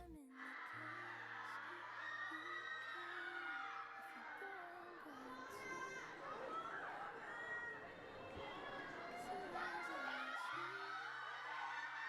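A crowd of fans at an airport shouts and screams in a dense, continuous roar, with a few bright tones running through it.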